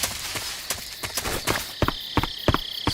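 A frog in Metal Gear Solid 3 croaks with a series of short, sharp clicking pulses that come in quick bursts against a steady bed of jungle ambience.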